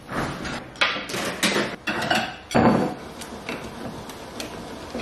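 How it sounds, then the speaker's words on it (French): Parmesan cheese grated by hand in short, rasping strokes, several close scraping bursts about half a second apart with brief pauses between them. "je vais râper du parmesan"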